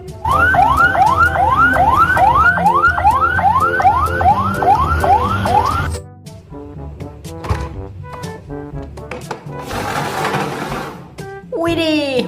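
A toy ambulance siren wails close and loud in a quick repeating rising sweep for about six seconds, then gives way to scattered electronic beeps and tones before another rising wail at the end.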